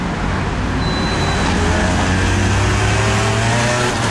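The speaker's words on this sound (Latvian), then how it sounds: "Jā, tāda motocikla vienkārši traucē dzīvi." Loud, continuous road traffic rumbling past at close range, with motorcycles among the vehicles, a steady low roar with no speech.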